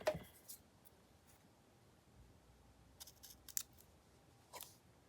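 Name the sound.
cutting paper with scissors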